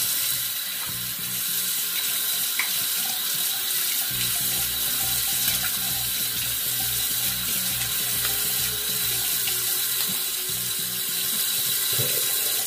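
A tap runs steadily into a sink as cold water is used for rinsing off after a shave, a continuous close splashing hiss with faint clicks and no talk.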